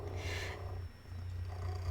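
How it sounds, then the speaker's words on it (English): A house cat purrs close up, a low continuous rumbling with rhythmic breathing swells, quiet and alone without any talking. "I'm sure you guys can hear my cat purring."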